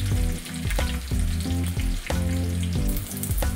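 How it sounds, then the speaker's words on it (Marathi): Garlic and green chillies frying over full gas in a pan for vegetable fried rice, a loud, dense sizzle close up with repeated stirring scrapes and a low tonal hum beneath, no voices. "आपल्याला हे सगळं फुल गॅसवरच शिजवून घ्यायच्या आहेत भाज्या"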